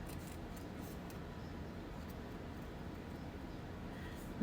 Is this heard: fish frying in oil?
no